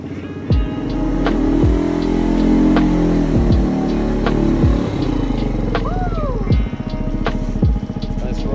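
A moped engine revs repeatedly while warming up from a cold start, close and loud, with sharp bursts rising and falling over a steady drone and people talking now and then.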